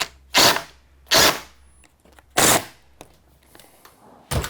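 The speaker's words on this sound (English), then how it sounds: "I'm just gonna pull these screws in a little bit right here and on the hinge side" A power drill drives screws into a door hinge in four short, loud bursts spaced about a second apart, with quiet pauses between them and no speech.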